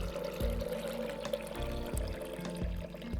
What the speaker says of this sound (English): here is where we measure and add in 1 liter of fresh water